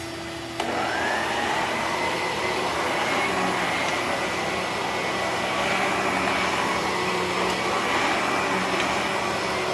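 An Electrolux Epic vacuum cleaner with a PN7 power nozzle switches on and runs steadily, a constant whirring motor drone with a high whine and brush hiss, fairly close and without voices.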